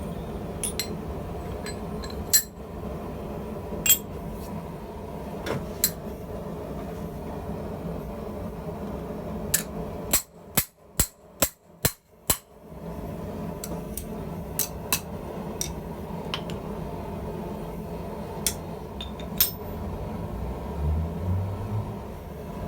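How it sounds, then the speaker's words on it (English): Sharp metallic hammer strikes on a blade edge in a V-swage ring out over a steady low rumble, scattered at first, then a quick burst of about six evenly spaced blows. "So why am I hammering the blade edge into this V-swage?"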